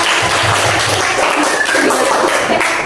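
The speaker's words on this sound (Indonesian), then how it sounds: "Yang beri tepuk tangan untuk kelompok 3" A classroom group of teacher-training participants gives a round of applause for group 3, a dense, steady clapping that fills the room evenly for the whole stretch without fading.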